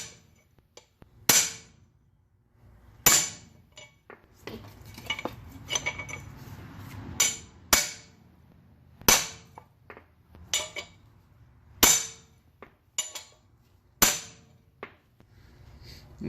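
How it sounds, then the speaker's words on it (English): Sharp metallic hammer strikes on an old wheel bearing race from a Honda Accord ring out one at a time at irregular intervals, about a dozen clear clanks with quieter taps between, close and otherwise quiet. "Turn my hammer sideways like this."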